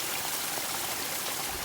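A water stream running along a hiking trail gives a steady, close, broadband rushing and trickling that stays even throughout with no talk.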